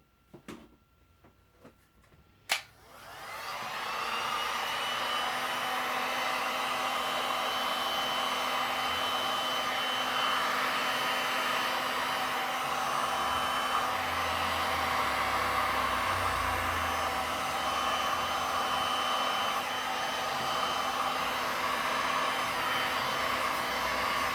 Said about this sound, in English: Now I have to put a heat gun on this